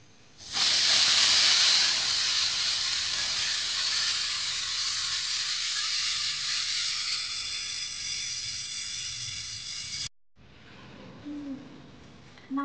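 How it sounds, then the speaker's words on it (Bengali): Pressure cooker whistle on a gas stove blasting steam while mutton cooks, a loud sharp hiss that holds for about ten seconds, tapers slightly, then cuts off abruptly, leaving faint kitchen sounds. "সিটিটা এখন বেজে"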